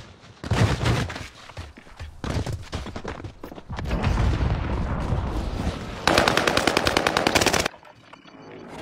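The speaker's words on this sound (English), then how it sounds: "What the fuck did I just get shot with?" Sustained video game gunfire with rapid machine-gun bursts and overlapping shots, loud and dense, ending in a fast steady automatic burst before cutting off.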